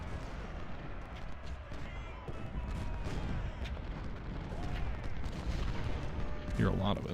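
Massed artillery thunders across a Civil War battlefield in the game Ultimate General: Civil War, with continuous rolling booms and gunfire blending into a loud, unbroken din with a few sharper reports near the end.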